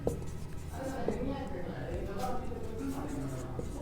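A pen scratches on paper in short strokes while a teacher works through a class 10 maths problem, the soft writing sounds mixed with quiet talking.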